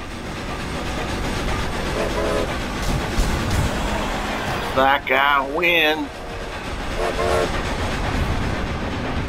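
A train in Forza Horizon 2 speeds along its rails beside a race, its rumble and clickety-clack running continuously with horn-like tonal bursts midway, while a player talks over it.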